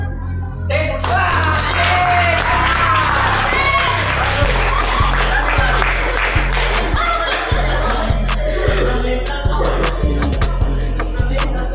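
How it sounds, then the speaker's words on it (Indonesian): Students in a classroom clap together in a loud, sustained burst with dense irregular slaps and a few louder rhythmic strikes, while voices and chatter carry on underneath. "Tepuk tangan."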